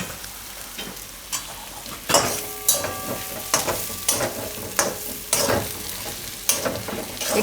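Masala for a brinjal and fenugreek curry fries in a pan while a spoon stirs it, giving a steady sizzle broken by sharp, regular scrapes and knocks against the pan, close and loud.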